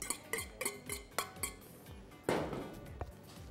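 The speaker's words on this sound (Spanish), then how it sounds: "vamos a juntar la cebolla con la papa" Sliced onion and potato being combined for a Spanish tortilla, with a run of sharp utensil clinks and taps against a bowl, several in a quick rhythm, then a louder scraping clatter near the end.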